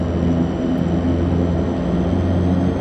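A DHC-6 Twin Otter taxiing in Flight Simulator X, a steady loud twin-engine drone holding an even pitch throughout, no speech.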